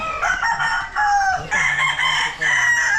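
Several chickens clucking with a rooster crowing loudly nearby, the crow rising and falling over steady farmyard cackling.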